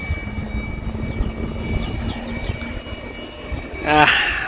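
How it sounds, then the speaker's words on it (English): A fixed-wing airplane takes off from an airport, heard from a nearby roadside as a broad, steady engine roar that swells toward the end, with a voice speaking over it. "The cars have stopped to see the plane take off."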